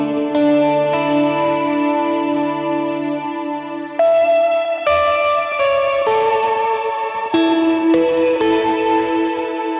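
A Strymon BigSky MX reverb pedal with its ensemble feature slightly raised, washing sustained guitar chords in lush, shimmering reverb with a chorus-like swirl; chord changes arrive every second or two, loud and continuous, with no voices.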